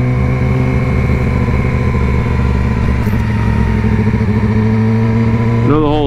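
Motorcycle engine running steadily while riding, with a sustained loud drone and a rising rev near the end; a person talks briefly.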